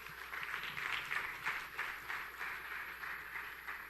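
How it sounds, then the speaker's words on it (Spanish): A church congregation applauds the Lord during a Spanish-language service, a soft, distant wash of many hands clapping that swells and fades steadily over a few seconds with no voices on top. "Démosle un aplauso al Señor, en el nombre de Jesús."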